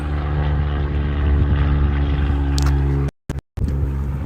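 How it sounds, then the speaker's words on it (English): A propeller airplane passes low overhead near an airport, a loud steady droning engine hum with strong low harmonics that fills the clip before cutting out briefly near the end. "Is that airplane coming back down? I hear him."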